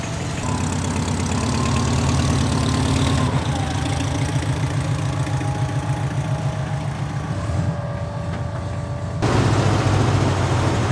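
A BMW 700 car engine runs steadily while driving, a close, buzzing mid-pitched drone that shifts pitch as it goes through gears, then grows rougher and louder near the end.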